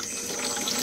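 Water flowing steadily from a spring source where people fetch water, a brief, continuous splashing trickle.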